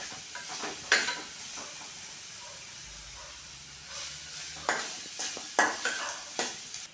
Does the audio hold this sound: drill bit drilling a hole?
no